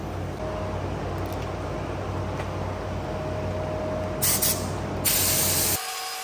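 A coat of POR15 metal prep sprayed onto metal in a shop, a steady close hiss running almost without break, with a couple of brighter bursts near the end before it cuts off.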